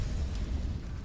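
A grenade blast in Counter-Strike on the Train map during a competitive match: a short, low, rumbling boom that fills the whole second with no voices.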